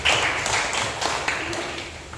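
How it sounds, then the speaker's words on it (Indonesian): Students in a classroom applaud a presenting group during a lesson, a steady wash of many hands clapping together at moderate volume for the whole stretch. "tepuk tangan untuk kelompok 1"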